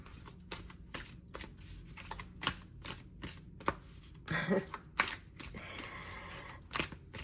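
Tarot cards being shuffled up close, a run of quick riffling flutters and soft taps in irregular bursts, a denser riffle midway, no one speaking.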